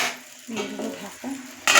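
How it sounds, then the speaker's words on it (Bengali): A metal lid is set on a cooking pot of frying soybean chunks after water is added, giving a few short metallic clinks and scrapes close by, then a louder hiss at the end. "দিয়ে দেবো ঢাকা।"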